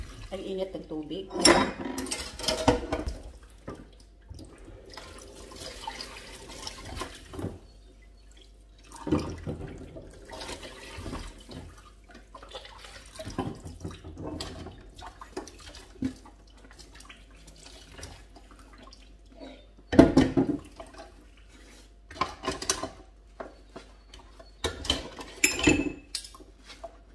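Dishes, pots and cutlery are washed by hand under a running tap at a home sink while the dishwasher is out of order. Scattered clinks and clatters rise over a low flow of water and dripping, and a person talks now and then.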